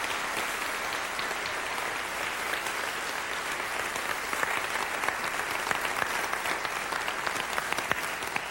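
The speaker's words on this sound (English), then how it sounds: "you should applaud because she deserves that" Steady, dense applause from a large audience at an inspirational talk, sustained at an even level throughout with no break.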